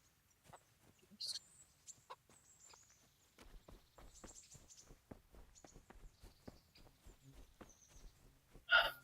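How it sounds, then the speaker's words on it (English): Chickens cluck and squawk faintly in the medieval game Kingdom Come Deliverance, mixed with soft footsteps, ending with a sharp, loud squawk. "nobody minds if we are killing chickens"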